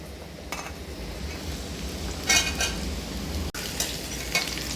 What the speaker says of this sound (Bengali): সব কিছু ভালোভাবে ভেজে নেবো